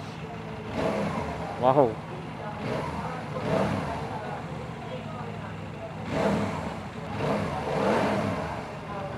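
A Kymco Xciting ADV scooter engine revved in a series of throttle blips, each rising and falling close by in a deep rumble, with a person exclaiming briefly over it.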